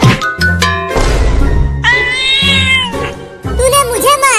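Cartoon cat meowing and yowling, several drawn-out whiny cries in a row, loud and near, with a voiced character also speaking around them.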